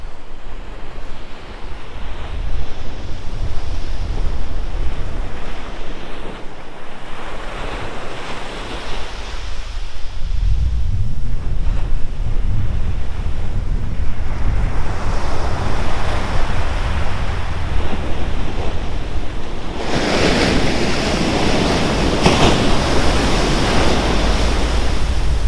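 Pacific surf breaks on Aliso Beach in Dana Point under strong wind, with a continuous roar of waves and swells of louder crashes while wind buffets the microphone.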